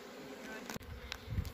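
Bees buzz in a faint, continuous drone amid handling noise and a few soft knocks, with a voice speaking in the background.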